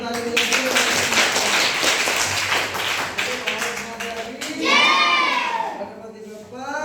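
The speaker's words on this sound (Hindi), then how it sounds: "एक बार जोरदार ताली बजाइए" Classroom of Navodaya Vidyalaya students clapping loudly together, a dense burst of applause lasting several seconds before fading, followed by a teacher's voice speaking.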